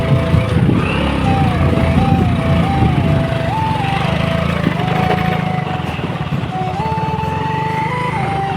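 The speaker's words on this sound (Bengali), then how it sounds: "এই আমরা যাচ্ছি, পাহাড়ের উপরে উঠছি বাইক নিয়ে" Motorbike grinding uphill on a hill road near the Lankapara picnic spot, its engine droning steadily and loud throughout with shifting pitch as it strains on the climb, wind rumble underneath.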